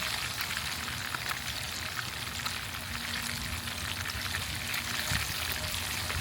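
Tilapia sizzling in a frying pan gives a dense, steady crackle, close and fairly quiet, with no voices over it.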